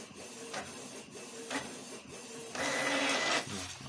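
A Canon MG2570 inkjet printer whirs and clicks through a calibration or cleaning cycle, with short repeated mechanical pulses and then a longer, louder grinding run near the end, with no talking.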